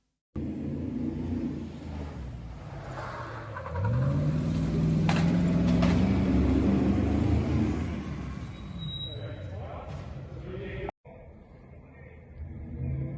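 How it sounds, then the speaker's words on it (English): A Batmobile driving past on a film set, its engine rising into a loud, close rumble as it passes, then fading; another vehicle is heard afterward, with people speaking faintly in the background. "Here comes a Batmobile."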